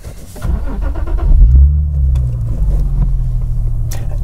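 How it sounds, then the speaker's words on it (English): An Infiniti G37 or Nissan 370Z engine cranks and fires up close by, settling quickly into a steady, loud, low idle rumble with no talking. "First, we'll start the car."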